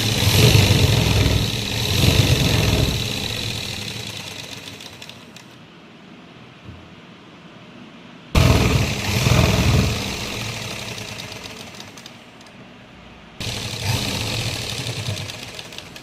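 A sewing machine stitches a salwar seam in loud bursts, with rapid whirring runs broken by two abrupt pauses before the stitching starts again, heard alone up close.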